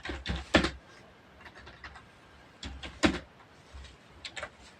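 Fingers typing material text on a computer keyboard, clustered bursts of close key clicks separated by short pauses, alone without talk.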